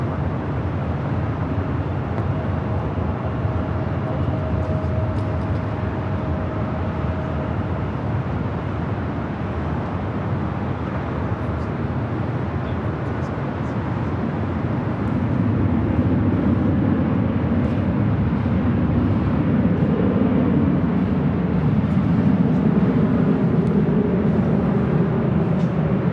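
A jet airliner taking off from runway 24 left at LAX, heard as a steady, broad engine roar that swells and thickens in the second half, distant but continuous, with no voices over it.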